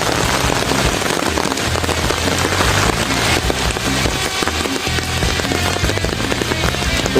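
Heavy rain pours steadily and loudly onto the ground and an umbrella at a muddy outdoor fishing spot, a dense continuous patter with no talk.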